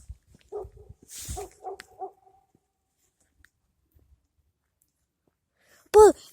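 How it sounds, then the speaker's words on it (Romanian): A single sharp, loud dog bark rings out near the end of a quiet night scene, after faint scattered rustles and soft breathy sounds earlier on. "Latră, latră."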